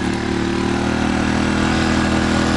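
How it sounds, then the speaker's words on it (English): A Sportsman GEN1000i portable inverter generator runs steadily and close, its droning hum rising slightly in pitch as the engine revs up a little under load. "you hear the sound of the engine kick up a little bit there"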